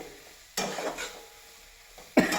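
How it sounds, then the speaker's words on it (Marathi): A coriander mixture stir-fried into a rustic bharit of thorny local brinjal, with two short, close bursts of stirring and sizzling separated by a quieter pause, no voices. "कोथंबरीचे मिश्रण आपण ह्याच्यामध्ये परतवून घेत आहे"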